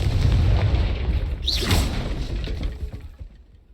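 A Confringo fire-blast spell in the Hogwarts Legacy video game: a loud, close booming burst with a whooshing rush, then a rumbling tail that fades out over a few seconds.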